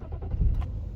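A BMW engine being restarted after the ignition key is pulled and turned again, a short low cranking rumble catching into a running idle, heard close and alone.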